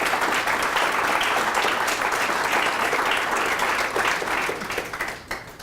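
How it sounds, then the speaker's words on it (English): An audience at an honoree event applauds, dense sustained clapping that fills the room and then thins out and tapers off near the end. "One more round of applause for Mr."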